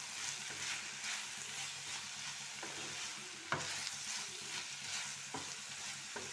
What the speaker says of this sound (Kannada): ಈಗ ಒಂದ್ಸರಿ ಎಲ್ಲ ಫ್ರೈ ಮಾಡ್ಕೊಳ್ಳುವ. ಇದು ಸ್ವಲ್ಪ ಟರ್ನ್ ಮಾಡ್ಕೊಳ್ಳುವ.